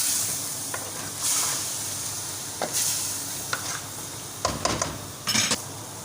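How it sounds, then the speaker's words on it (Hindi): Chicken being stirred with soy sauce and chili sauce in a pan: scattered scrapes and clinks of a utensil against the pan over a low, steady sizzle, several separate stirring strokes with no talking. "सोया सॉस, चिली सॉस, और इसको हम करेंगे अच्छी तरह मिक्स"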